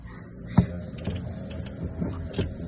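Wrench ratcheting as bolts are tightened on the upper control arm of a 2008 GMC Sierra truck, a run of close, quiet mechanical clicks and creaks with one sharper knock near the start.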